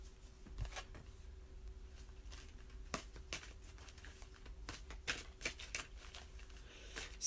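Tarot cards are shuffled by hand in a continuous, close, soft riffling patter with scattered sharper flicks, lasting throughout without speech.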